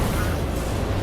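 Heavy rumbling explosion in the video game The Surge, a dense, loud low boom filling the whole moment without a clear break.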